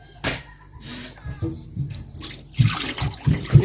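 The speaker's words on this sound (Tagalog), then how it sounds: "Itapon natin yung tubig." Water poured out of an electric kettle into a sink splashes and gurgles in irregular bursts, growing louder and fuller toward the end, close to the listener.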